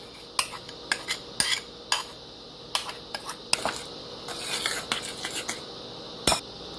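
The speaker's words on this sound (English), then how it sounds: "Just keep mixing it till it's all mixed together." Banana cake batter being mixed in a bowl, with irregular clinks and taps of a utensil against the bowl over a quiet background, close and fairly faint.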